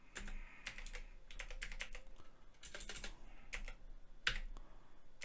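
Fast, irregular clicking of a computer keyboard as a Photoshop layer name is typed, crisp close keystrokes in quick bursts with short pauses and one sharper key press near the end.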